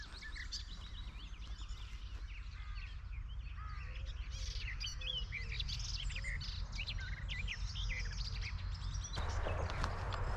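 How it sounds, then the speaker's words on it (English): Many birds sing and chirp together beside Wimbleball Lake in quiet countryside, a dense layered chorus of tweets and calls over a steady low rumble of wind, with no voices. "lots of birds singing, kind of sounds of nature."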